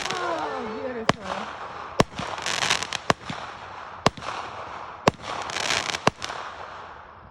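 Fourth of July fireworks burst in a series of sharp, loud bangs about once a second, with crackling fizz between them, while people talk quietly nearby.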